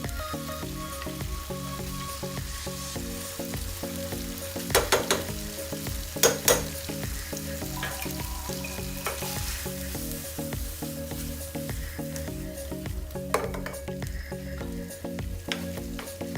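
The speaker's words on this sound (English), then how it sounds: "We can add our butter." Butter sizzles and fries steadily in a pan while penne arrabbiata is cooked, with a few sharper crackles and spatters rising over the constant hiss, close and alone without talk.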